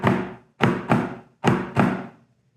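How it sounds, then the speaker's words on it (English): Snare drum in a historic British military-style cadence, a seven-stroke roll followed by alternating left and right flams, heard as five distinct close, sharp strokes with brief decays in an uneven rhythm, played alone. "What we'll do is play a 7-stroke roll, pop our hands up, make sure that we're ready to play a left-handed flam"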